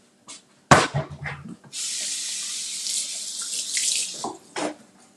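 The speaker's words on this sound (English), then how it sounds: "I'll wash my hands" Kitchen tap running while hands are washed, a bright steady stream of water lasting a few seconds, preceded and followed by clunks and handling noises at close range.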